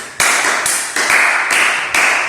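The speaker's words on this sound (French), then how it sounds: "Applaudissez pour vous" Audience at a sales training seminar clapping together in slow unison, about five loud, evenly spaced bursts of claps, close and bright.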